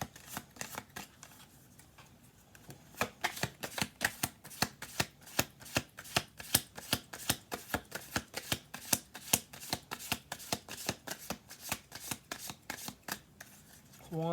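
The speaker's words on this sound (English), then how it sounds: "One more shuffle through." A deck of cards shuffled through, a steady run of crisp riffling flicks repeating in quick rhythm, close and fairly quiet, with no talk over it.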